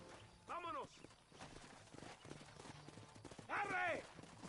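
Horse hooves clip-clop steadily beneath a mix of Red Dead Redemption game sounds, with a horse whinny near the start and again near the end, and a voice shouting.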